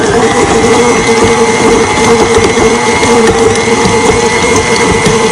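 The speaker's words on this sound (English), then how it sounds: "In my KitchenAid, and then I just whip it up, scraping the sides as I need." A KitchenAid stand mixer whips a batch of homemade toothpaste, giving a loud, steady mechanical whir and grinding rattle that runs without a break, close to the mic.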